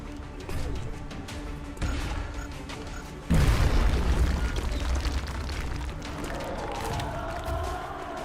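A grenade detonates in the video game XCOM to destroy cover, a sudden deep boom midway through followed by a long rumbling, crumbling tail over quieter ambient game sound.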